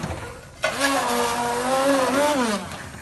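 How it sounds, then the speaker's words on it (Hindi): A hand blender purees cooked chana dal for halwa, whirring steadily at close range, its motor pitch wavering and sliding up near the end before cutting off after about two and a half seconds. "मैंने इसको हैंड ब्लेंडर की मदद से अच्छे से ब्लेंड कर लिया है।"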